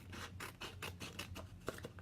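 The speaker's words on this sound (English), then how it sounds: "Now I'm just going to take my scissors and I'm going to cut apart those cut lines." Scissors cut apart a stencil along its cut lines while making a T-shirt, a run of rhythmic crisp snips and scraping rustles heard up close with no voices.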